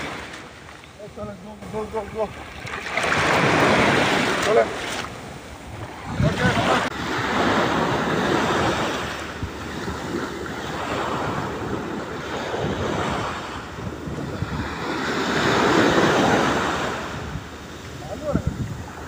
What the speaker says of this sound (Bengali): ঢেউয়ের শব্দটা মন দিয়ে ফিল করুন